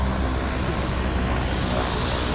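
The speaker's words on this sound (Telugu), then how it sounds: "ఏ విధంగా ల్యాండింగ్ అవుతుంది హెలికాప్టర్" A helicopter landing at the helipad in Medaram during the Sammakka Saralamma Jatara gives a continuous, moderately loud rotor and engine roar, steady and broadband with no talk over it.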